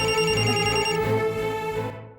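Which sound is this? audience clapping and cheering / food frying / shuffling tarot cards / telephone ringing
telephone ringing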